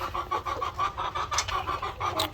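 White Leghorn laying hens clucking and chattering steadily in a farm setting, a dense run of overlapping soft calls close by, with no talk.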